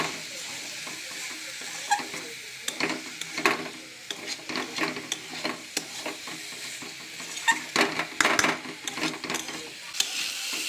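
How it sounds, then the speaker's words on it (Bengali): Fig and potato pieces sautéing with spices in a pan, a steady close sizzle broken by repeated scraping and stirring strokes of a utensil against the pan, with no talk. "দেখো সবজির সঙ্গে মশলাটা কষা হয়ে গেছে"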